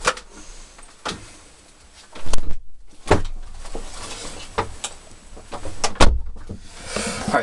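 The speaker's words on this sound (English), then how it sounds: "Let me close the door to my shop place." A shop door is shut in several stages: a creak and slide, then a series of knocks and latch clacks, some louder thumps near the middle, all close by without speech.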